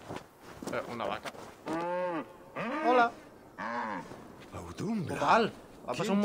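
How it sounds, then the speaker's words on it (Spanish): A cow in the video game Assassin's Creed Valhalla gives several long, loud moos in a row, each drawn-out call separated by brief pauses, close and clear. "Una vaca."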